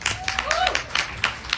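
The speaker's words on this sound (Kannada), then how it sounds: "ಚಪ್ಪಾಳೆ ಹೊಡಿಲೇಬೇಕು" An audience clapping for a Jayanagar team drama performed at Ramaiah hospital, a scattered, uneven round of claps from a modest group, with a voice speaking over it.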